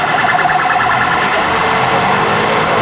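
A police car siren wailing loud and close along Shaftesbury Avenue in London's West End, a continuous warbling tone over busy street traffic noise.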